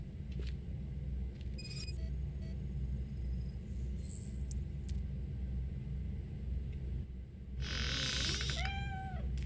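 A cat meows a few times in RoboCop: Rogue City, short faint cries heard over a steady low rumbling ambience, with a brighter, louder mewing near the end.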